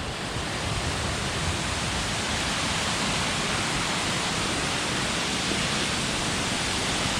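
Long Creek Falls near Blue Ridge, Georgia, roars as a steady, loud broadband rush of falling water heard up close at the top of the falls, with no voices over it.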